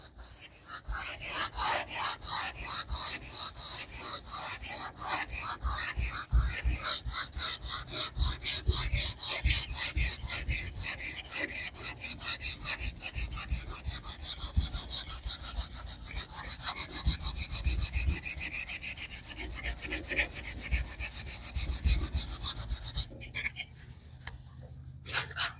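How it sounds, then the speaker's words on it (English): Wet sanding an old wagon by hand with 150 grit orbital sandpaper: close, steady back-and-forth rubbing strokes repeat quickly and evenly for over twenty seconds, then stop abruptly. "So I'm just wet sanding. This is 150 grit orbital sandpaper."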